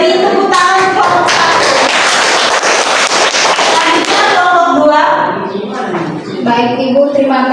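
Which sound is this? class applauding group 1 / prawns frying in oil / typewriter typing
class applauding group 1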